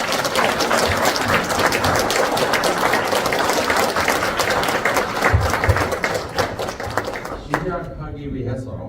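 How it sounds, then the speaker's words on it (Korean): An audience claps to welcome a lecturer at a museum concert talk in Pocheon, a dense continuous wave of applause that fades out near the end, with a voice talking over it. "큰 박수로 교수님을 모시겠습니다."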